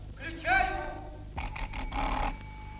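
An electric bell on an early radio signal receiver rings in a short rattling burst, then rings again after a pause, with a voice exclaiming over the first ring.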